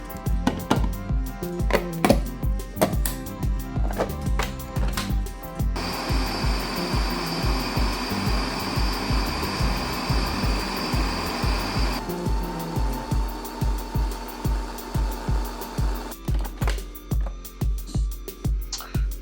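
A Ninja Creami machine spins and blends a pint of allspice cranberry ice cream, giving a steady, loud mechanical whir in the middle after some choppy clattering, then settling into a rhythmic pulsing grind toward the end.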